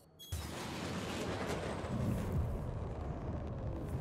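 Rattler missiles launch and detonate in the space game Star Citizen, a sudden onset rising into a steady, distant roaring rumble that fills the few seconds at low volume.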